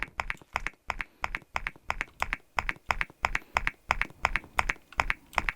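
Steady, evenly spaced keyboard-like clicks, about four per second, as a character walks across a keyboard bridge in the Roblox game Clicky ASMR Canyon, clear and close with no talking.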